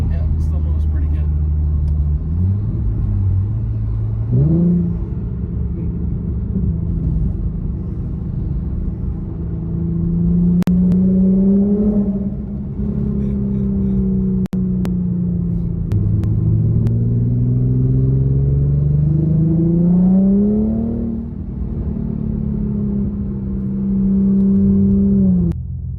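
An Infiniti Q50 accelerates hard from inside the cabin, engine droning and rising in pitch through several gear shifts, with people talking over the steady rumble.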